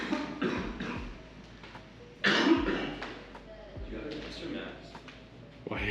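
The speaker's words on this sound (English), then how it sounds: "I've just been coughing." A person coughing a few times in short, muffled bursts, with one louder cough in the middle, heard indoors near a photoshoot set amid faint background noise.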